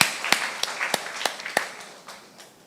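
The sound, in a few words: conference audience applause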